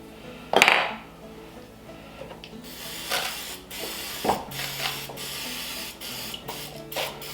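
A pepper grinder cranks out pepper over raw chicken for an air-fryer chicken cordon bleu, giving a few scattered ratcheting grinds and clicks close by with a sharp clatter near the start, no talking.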